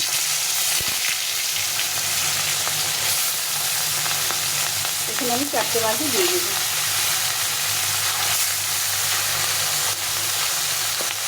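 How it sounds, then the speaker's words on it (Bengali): Roe-filled bata fish frying in a little oil in a hot wok, a constant loud sizzle with scattered pops, while a person briefly speaks over it midway. "মাছগুলোকে অল্প তেলে একটু ভেজে নেবো"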